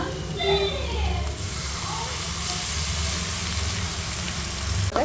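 Onions and masala fry in a pan for mushroom kurma, giving off a steady, close hiss and sizzle. The frying goes on without a break, with a faint rattle near the end.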